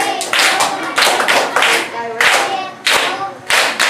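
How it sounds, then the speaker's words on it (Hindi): A school class bursts into rhythmic applause in several quick rounds of clapping, loud and close, with voices mixed in. "इसके लिए एक बार आप तालियां"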